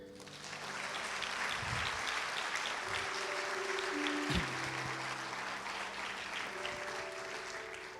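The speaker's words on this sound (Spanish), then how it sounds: "Dele un aplauso a Dios." A church congregation breaks into sustained applause, a steady wash of clapping at moderate distance lasting several seconds, with faint tonal sounds underneath.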